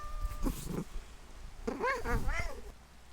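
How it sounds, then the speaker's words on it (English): A real cat meows several times close by, with quick rising and falling cries, behind a Minecraft gaming session and a voice. "I don't know if you can hear my real cat meowing at me."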